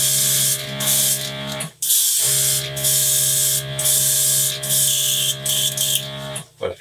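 Airbrush spraying Mission Models dark aluminium paint onto a spoon, a steady close hiss in repeated bursts with brief pauses between passes and a faint motor hum beneath.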